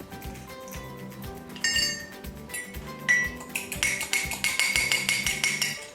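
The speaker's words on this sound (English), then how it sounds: "I'm going to crack the egg and lightly beat it." An egg cracked and lightly beaten for rock cake batter, a fork clinking rapidly against a bowl in quick rhythmic taps, close and clear with no talking.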